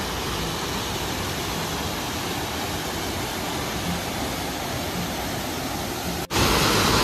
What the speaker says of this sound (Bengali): ওই উপর থেকে দেখো ঝর্ণার জলগুলো পড়ছে